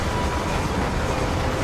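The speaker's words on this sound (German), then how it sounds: "Also erstmal warten, bis der Zug hier weg ist." A train passes in the Red Dead Redemption video game, a short burst of steady rolling rumble and clatter that fills the clip.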